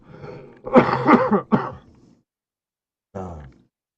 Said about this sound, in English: Pardon me while I cough.